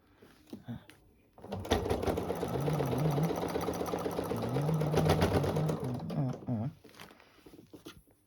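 A sewing machine stitches a small quilted table runner in a quick, steady mechanical whir of needle strokes that runs for several seconds, with brief pauses and faint handling noises before and after.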